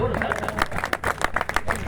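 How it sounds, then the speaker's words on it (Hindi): Thin, scattered applause from an audience, a brief patter of clapping mixed with murmuring voices, sparse rather than full. "तालियां कमजोर।"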